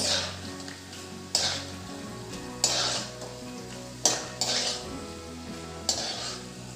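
Peanuts being lifted out of hot frying oil for Diwali chivda, with a steady sizzle, periodic scraping of a utensil against the pan about every one and a half seconds, and light clinks, close and alone without talk.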